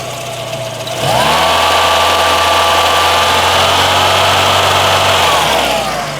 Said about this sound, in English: Of course, I'm at idle. If I rev that up